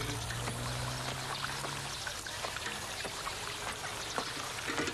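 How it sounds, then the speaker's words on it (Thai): A small stream flows through the old town of Samarkand, a steady trickling and pouring of water that continues unbroken throughout, close and moderately loud. "ด้านหน้าจะมีลำธารเล็ก"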